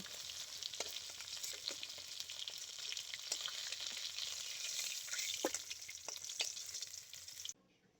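Snakehead fish fry in hot oil in a pan, a steady hissing sizzle with occasional crackles and pops, close and fairly quiet, cutting off abruptly near the end.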